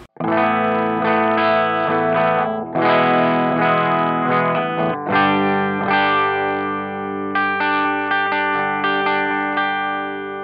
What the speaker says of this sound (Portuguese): esse é o som único da guitarra